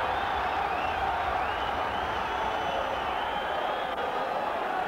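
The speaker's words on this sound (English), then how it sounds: "But it's the Blackburn roar now." Blackburn Rovers home crowd at a football match against Swindon, a sustained loud roar filling the ground throughout, with a commentator's voice faintly underneath.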